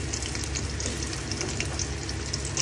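Onions frying in plenty of oil in a Bangladeshi home kitchen, a steady, close hissing sizzle with faint crackles that holds evenly throughout, no voices.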